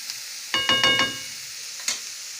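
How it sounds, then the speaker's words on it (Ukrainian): Onion and carrot frying in a pan, a short close burst of stirring scrapes and clinks over a soft sizzle, followed by one more clink. "Обжарюю цибулю морквою."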